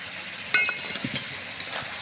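Chopped tomato hitting spiced oil in a pan, a soft crackling sizzle with a few sharp pops and stirring clatter, moderately quiet, no one speaking.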